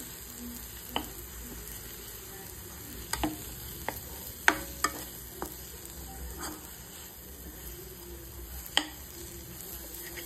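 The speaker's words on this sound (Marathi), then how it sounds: "आता मी याच्यात बेसन ॲड करते. आणि बेसनला पण थोडं तेलात शिजवून घेऊ आपण." Gram flour cooking in hot oil in a pan, giving a faint, steady sizzle with scattered light clicks and taps from stirring.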